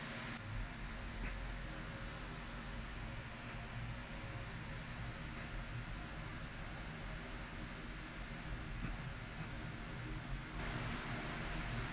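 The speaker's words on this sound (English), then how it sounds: "The sound you hear is the fans going on" Electric fans run steadily in a hot Montana sculpting studio, producing a faint, even broadband whir with no breaks for the whole stretch.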